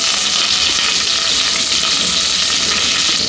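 Curry leaves dropped into hot oil with fried chana dal give a steady, close, loud sizzle and crackle that runs unbroken throughout, with no talking.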